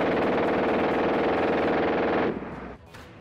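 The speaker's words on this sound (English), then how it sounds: "The distinctive sound caused by the high cyclic fire rate gave rise to the nickname Hitler's Buzzsaw." A German WWII machine gun fires one long, extremely rapid burst that blurs into a loud, continuous buzzing tear before stopping abruptly, leaving a brief fading echo.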